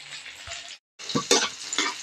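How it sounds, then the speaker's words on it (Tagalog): Garlic and onion sautéing in a pan still holding oil from fried tofu, with a loud steady sizzle and stirring scrapes, briefly cut off mid-clip and then resuming. "dito ko na rin po igisa ang bawang at sibuyas"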